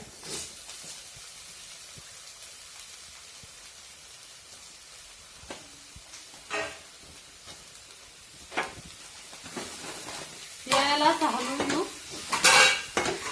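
Soaked poha and fried onions being mixed in a pan for kanda poha, with soft scraping and clinking of a spoon against metal, faint sizzling throughout and louder clattering stirs near the end.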